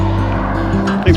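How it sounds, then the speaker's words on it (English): A car drives past a cyclist on a road with a steady, loud engine and tire roar that swells near the end, heard close from the bike. "Here comes the car."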